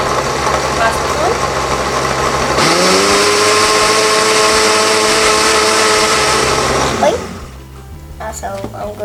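A blender whirs as it mixes homemade strawberry milk, its motor kicking in after a brief noisy lead-in, spinning loudly and steadily for several seconds, then cutting off into quieter room sound.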